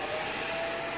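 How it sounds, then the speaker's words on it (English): A Hoover React Professional Pet vacuum cleaner runs steadily at close range, a constant whirring motor drone with a thin high whine and no voices. "You turn the vacuum on."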